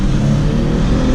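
A 4.0-litre Ford AU Falcon with a five-speed manual roars at full throttle, a loud, steady low-pitched engine drone heard from inside the car.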